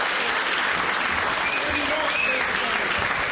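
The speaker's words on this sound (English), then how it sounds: "Give me a nice round of applause." Comedy club crowd applauding a comedian, a steady dense burst of clapping that holds at an even level for the whole stretch, with faint voices mixed in.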